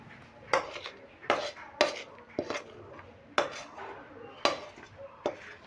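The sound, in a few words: pouring coriander pickle from a pan into a container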